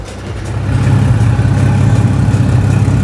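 A Ford Falcon engine idles loud and close, its variable exhaust opened so the sound swells into a deep, rumbling roar that holds steady.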